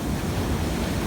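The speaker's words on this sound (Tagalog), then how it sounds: "Oh, ang lalaki ng alon." Large ocean waves pound the shore at Gonzaga, Cagayan just after Typhoon Lion, a dense, roaring wash of surf mixed with wind buffeting the microphone, loud and unbroken for the brief moment.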